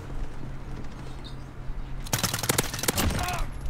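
Rifle fire in the Modern Warfare video game, a rapid burst of loud gunshots cracking in quick succession after a quieter stretch of ambient game sound, with a voice speaking briefly near the start.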